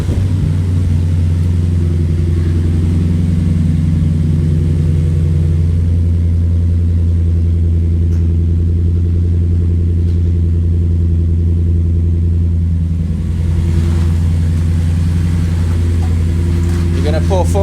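A Lexus GSF/RCF V8 with a newly installed aftermarket exhaust rumbles loudly and continuously at a deep idle, with slight swells in pitch, heard up close in a garage while people talk over it.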